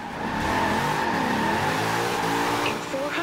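A Corvette in a drifting video game revs and spins out, its engine droning steadily with a rising and falling pitch and a faint tire squeal, while game chatter sits underneath.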